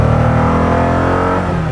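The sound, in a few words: Koenigsegg car engine revving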